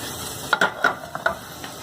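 Shrimp sizzling in a hot pan while being flipped and stirred, with a steady frying hiss and a few soft scraping, tossing bursts near the middle.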